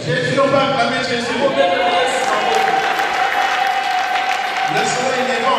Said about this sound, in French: on va acclamer Jésus